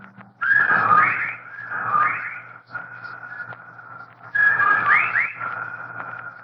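Eerie, warbling whistles rise and bend in pitch, swelling and fading in repeated waves with a faint low hum underneath.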